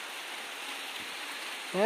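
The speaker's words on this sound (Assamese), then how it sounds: "ইমান কোলা মোলাকে একদম বৰষুণ আহি আছে" Heavy rain falls steadily near hills as a dense, even hiss, ending in a brief rising tonal sound.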